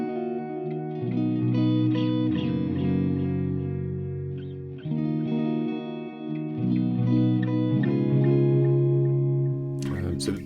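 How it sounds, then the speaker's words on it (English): Soft electric guitar played through a Fender Hammertone analog delay pedal, sustained notes blurring into a smooth, reverb-like wash of repeats that rings continuously and fairly loud, with a brighter burst near the end. "if you play softer as well, it almost has like a reverb type quality to it."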